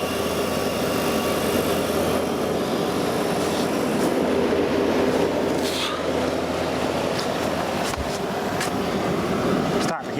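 Vintage Pope Dove window air conditioner running with a loud, steady mechanical rumble and hum, up close, with a few faint clicks and rattles.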